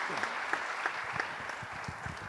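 A church congregation clapping together, a steady wash of dense applause with faint rhythmic accents, moderately distant and even in level throughout.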